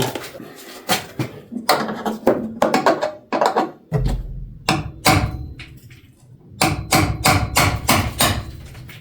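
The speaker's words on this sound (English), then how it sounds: "Need to centre punch that hole." Rapid metallic hammer taps on a centre punch marking metal for drilling, in clustered bursts, close and loud, with brief pauses and a heavier thud between runs.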